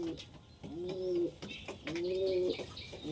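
Female pigeons coo twice in soft, rolling calls close by, with faint chirps and light rustling around them.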